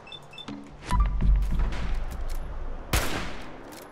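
Gunfire aimed at a power armor fusion core in the Fallout 4 video game, a few sharp close shots ending in a loud burst near the end.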